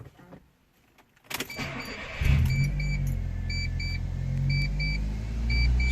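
A Mitsubishi Colt Ralliart is started: a quiet cabin, then a starter crank and the engine catching into a steady low idle rumble, with small electronic beeps repeating over it.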